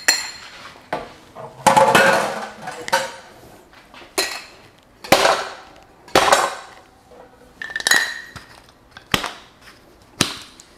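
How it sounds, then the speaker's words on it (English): A cocktail shaker holding a passion fruit drink is shaken in hard bursts, giving loud rattling, clinking strikes that come in irregular clusters over about ten seconds with short pauses between them. "You don't want to shake this for 10 seconds straight. Make sure it's well mixed."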